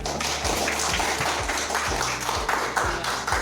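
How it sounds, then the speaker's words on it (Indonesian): Classroom applause from students: a steady beat of rhythmic claps about every half second over a dense wash of scattered clapping, continuous and moderately loud, with no talking. "Tepuk tangan untuk semuanya"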